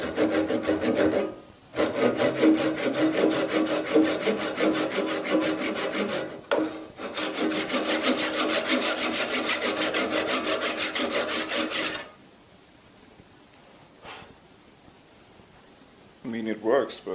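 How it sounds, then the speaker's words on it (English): Handsaw cutting the end grain of hard Sonowood for a guitar bridge, fast rhythmic rasping strokes up close for about ten seconds with brief pauses, then quiet. "So now try to cut it with a handsaw."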